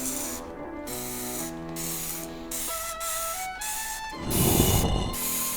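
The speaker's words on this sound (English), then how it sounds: "Pumpkin spice dish spray." A pumpkin spice dish spray is squirted from a trigger bottle onto a table for cleaning, giving one short, louder hissing burst near the end among mechanical clicks and tones.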